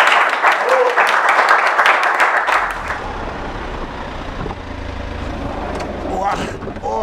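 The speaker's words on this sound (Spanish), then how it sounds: "Venga, un aplauso" Brief burst of applause and cheering in the opening seconds, then it fades to a low rumble and voices talking.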